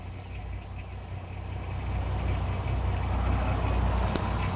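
A 3.2-litre V6 in a VW Golf R32, revved and held at raised rpm during a carbon clean, gives a steady, dense mechanical drone that swells slightly partway through and stays loud and close.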